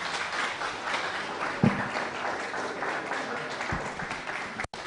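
Steady applause fills the hall at a university International Day of Forestry event, a crowd clapping continuously and fairly loud for several seconds.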